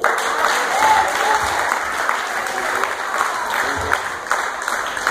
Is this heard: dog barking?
no